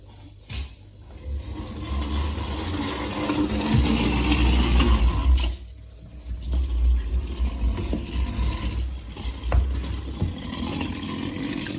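A small motor in a Meccano model whirs and rattles with meshing gears, the mechanical noise rising and falling as it runs.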